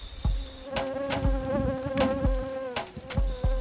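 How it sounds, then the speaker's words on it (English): Insects buzz in a close, droning whine with rising and falling pitch, broken by a few soft knocks; no one speaks. "Let's talk about mosquitoes."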